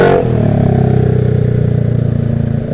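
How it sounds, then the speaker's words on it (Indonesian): A noisy motorcycle on a street by a market in Bintara, Bekasi, heard as a loud, close, steady rumbling engine drone that holds for several seconds. "Itu motor berisik banget"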